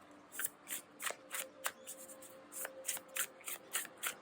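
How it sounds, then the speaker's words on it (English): Soft, rapid riffling of a card deck shuffled repeatedly in quick bursts, close and quiet, with no talking. "I just kind of shuffle until something jumps out."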